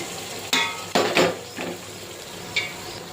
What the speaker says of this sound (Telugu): దాంట్లోకి ఉల్లగడ్డ, క్యారెట్ వేస్తున్నాము.